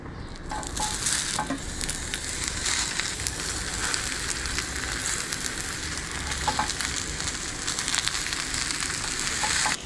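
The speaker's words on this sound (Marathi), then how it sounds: "तेल घाला, आता इडली फ्राय करूया." Idli frying in hot oil in a home kitchen, a steady loud sizzle with crackling pops and occasional stirring scrapes throughout, no voices.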